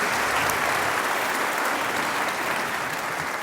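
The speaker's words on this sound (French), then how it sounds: "Je crois qu'on peut vous applaudir pour vous remercier" Forum audience applauding a six-person panel, a thick, even roar of clapping from many people, steady and close throughout with no talking.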